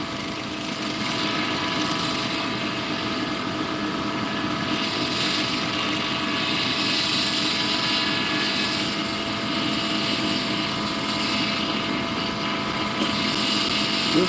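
A findbuytool.com wood lathe runs continuously, a steady mechanical whir and hum at an even pitch that stays level throughout with no pauses.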